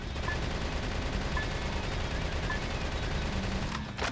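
Rapid automatic gunfire from the action game Metal Wolf Chaos XD rattles continuously at even loudness through the whole stretch, with a brief sharper burst at the end and no talking over it.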